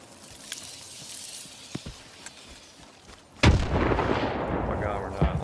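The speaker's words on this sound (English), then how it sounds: "Let's see if I can throw a grenade at him." A grenade detonates in Stalker 2 gameplay: after quiet ambience and a few small distant shots, a sudden loud broadband blast hits and leaves a long rumbling, crackling tail.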